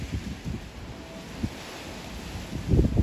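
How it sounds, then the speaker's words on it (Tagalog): Strong wind buffets the microphone in low, rumbling gusts among fruit trees, swelling louder near the end with no voices. "Sa lakas pa naman ng hangin."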